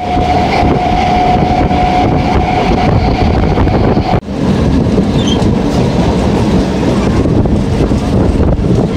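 Train pulling out of Bishnumiya station, with steady loud rumble and rail clatter running throughout, a brief dip partway, wind buffeting the microphone and a faint tone early on.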